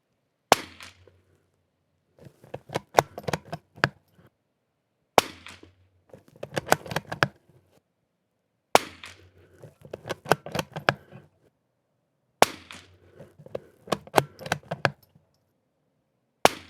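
Super BRNO SAA 2500 rifle fired at a scoring target outdoors, four sharp close shots spaced a few seconds apart, each followed by a burst of clicking and rattling handling noise.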